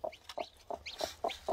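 A hen clucks in a quick series of six short, evenly spaced calls, close and moderately loud, while a weak chick is tucked back under her.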